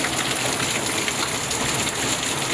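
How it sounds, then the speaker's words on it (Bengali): Heavy rain pours down steadily, a dense, loud hiss of drops hitting surfaces with no pauses and no voices. "দেখতে পাচ্ছ কীভাবে বৃষ্টি হচ্ছে, মানে এত বৃষ্টি হচ্ছে"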